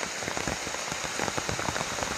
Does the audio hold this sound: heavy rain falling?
yes